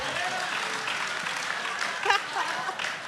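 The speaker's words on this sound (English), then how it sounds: "Robert, do not clap for that." Scattered applause ripples through an audience at a church gathering, a soft continuous spread of clapping at moderate distance with a few louder claps standing out toward the end.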